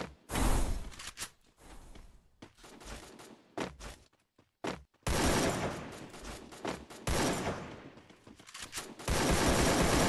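Heavy bursts of video game gunfire, with rapid machine-gun volleys and scattered single shots, come loud and close. They arrive in uneven clusters broken by brief quiet gaps.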